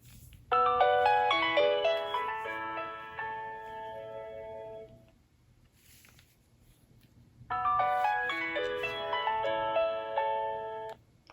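A 2005 Nokia N91 phone plays a ringtone as a bright, chiming melody, moderately loud and near, running twice with a short quiet gap between the two plays.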